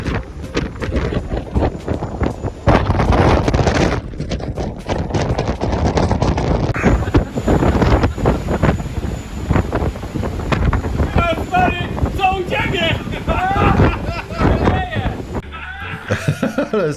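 Strong wind roars across a sailboat at sea, buffeting the microphone with loud, continuous gusts, while people talk over the noise.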